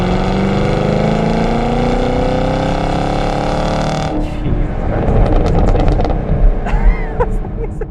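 A Chevy Camaro SS 1LE sports car engine roars loudly, holding a steady high-revving drone that rises in pitch, then shifts into rougher, fluctuating throttle bursts as it keeps accelerating up close.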